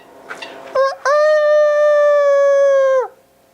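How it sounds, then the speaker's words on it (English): A single loud, close rooster crow, drawn out and steady for about two seconds before cutting off, with a short squawk just before it. "Here's our big boy rooster."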